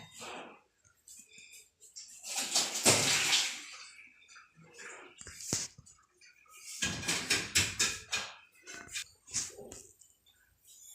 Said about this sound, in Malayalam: ഇതിൻ്റെ വെള്ളം ഊറ്റി കളയട്ടെ